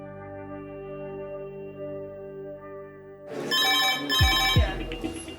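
A hospital emergency department's red emergency phone rings in a steady electronic trill, then louder clattering and handling noises with a brief voice break in over the ringing toward the end.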